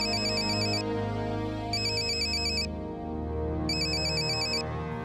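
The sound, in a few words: phone ringing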